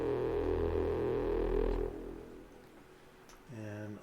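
A poly lo-fi synthesizer plugin played from a MIDI controller sounds a sustained, buzzy chord that fades, then a fresh chord enters after a brief quieter gap.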